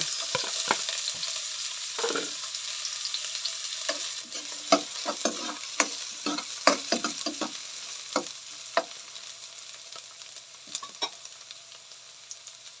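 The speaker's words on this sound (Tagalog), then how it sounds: "Maglagay ulit tayo ng konting oil. Para igisa natin ang ating onion." Onion sautés in a little oil for a cabbage and carrot stir fry, giving a steady close sizzle broken by frequent scraping and tapping of a utensil stirring in the pan.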